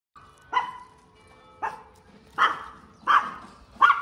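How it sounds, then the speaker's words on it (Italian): A dog barks five times in a slow, irregular series, sharp and fairly close, outdoors in a lakeside town, with no one talking. "e invece Lilla fa un casino e incomincia a abbaiare."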